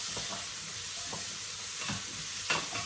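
Onions sautéing for a vegan celeriac and truffle oil soup, stirred in a pan: a steady close sizzle with soft scraping strokes every half second or so and one louder clack near the end, no voices.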